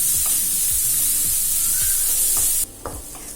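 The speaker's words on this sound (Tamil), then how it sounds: "அடுத்து ஒரு கேரட்டை துருவி போட்டுக்கலாம்" Grated carrot stirred into onions frying in a pan for aval upma, a loud steady sizzle with scraping spoon strokes, the hiss cutting off abruptly near the end leaving a few quieter scrapes.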